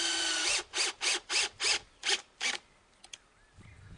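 A power drill driving screws into the straps of a wooden insect habitat, sounding as a run of about seven short, even whirring bursts close by, followed by a few faint clicks and handling noises.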